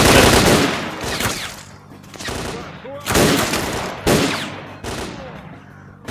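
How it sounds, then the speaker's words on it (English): Repeated bursts of automatic gunfire firing armor-piercing rounds in the shooter game S.T.A.L.K.E.R.: Clear Sky, loud and close, arriving in several separate volleys with short gaps between them. "The armor-piercing rounds on this gun are a headshot monster."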